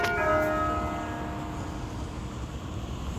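A cathedral tower bell strikes once near the start, a bright ringing tone that decays slowly over a quiet outdoor background.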